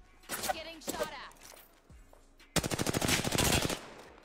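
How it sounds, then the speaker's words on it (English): Bursts of rapid automatic gunfire in the battle royale shooter Apex Legends, a short volley followed by a longer sustained stream of shots, crisp and fairly close. "Getting shot at."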